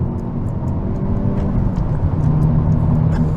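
A 2022 Hyundai Elantra N with turbo boost engaged roars loudly under acceleration, a dense engine and road rumble with a faint whirring edge that grows slightly stronger toward the end.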